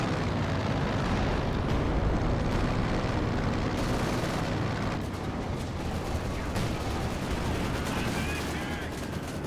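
Dense, continuous gunfire and explosions in a 4 vs 4 Carnage Cup finals match, with weapons shooting at a half-track in a loud, sustained battle din.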